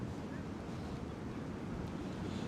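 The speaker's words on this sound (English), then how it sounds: "it's windy over here" Strong wind gusts across the Brooklyn Bridge on a freezing cold day, a steady loud roar and buffeting against the microphone throughout.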